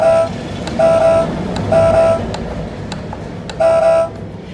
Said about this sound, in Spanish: También trae un claxon.